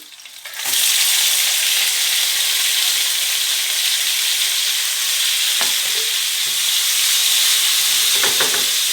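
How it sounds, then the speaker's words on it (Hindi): Onions drop into hot olive oil left from frying chicken, bursting into a loud, sustained sizzle that holds steady, with a couple of faint utensil taps; no voices. "अब हमने चिकन निकाल लिया और उसी ऑयल में हम प्याज डाल देंगे।"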